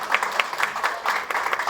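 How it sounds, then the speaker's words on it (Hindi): An audience at a tribute event applauds a war widow called to the stage, producing a brief burst of rhythmic clapping that pulses steadily and stays fairly loud and close. "तालियां बजनी चाहिए।"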